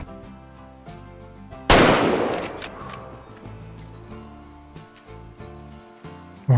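Rifle gunshot in the hunting video game Way of the Hunter: a single loud, sharp crack with a long rolling echo that fades over a few seconds, set against quiet background game music and soft clicks.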